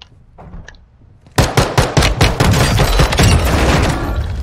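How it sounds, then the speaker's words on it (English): Sustained video game gunfire from Warzone 2.0 erupts after a quiet opening, with rapid loud shots and bursts stacking into dense, continuous automatic fire close by. "I think I heard somebody shooting over here"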